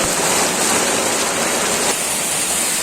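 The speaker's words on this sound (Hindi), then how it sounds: "यहाँ ओला बहुत भारी मात्रा में।" A heavy downpour with hailstones pounds down in a dense, continuous roar of hissing impacts, loud and unbroken, with no voices heard.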